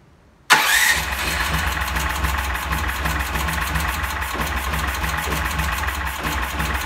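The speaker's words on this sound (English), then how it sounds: "what we're hearing here is the engine's running really rich, and that's due to the after start enrichment" A cold-started 420 cc Predator small engine fitted with EFI, throttle closed and running rich, catches abruptly after a brief silence and settles into a loud, steady, slightly uneven idle with a rapid firing pulse.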